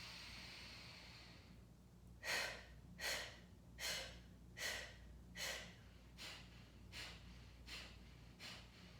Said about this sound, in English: Big breath in through the nose.